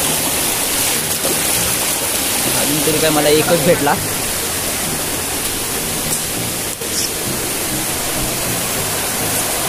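Heavy rain pours down at night over a field flooded after the season's first rain, a dense steady wash of noise, with a voice speaking briefly through it.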